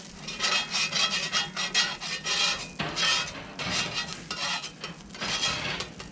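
A spatula rubs and scrapes steadily across a griddle beneath smash burgers cooked Ooni style, a close, continuous gritty scraping with faint sizzle in the background.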